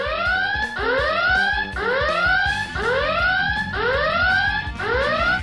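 A flying alarm clock's loud electronic alarm rings in repeated rising chirps, about six cycles of warbling beeps, steady and close, with a faint whirring underneath.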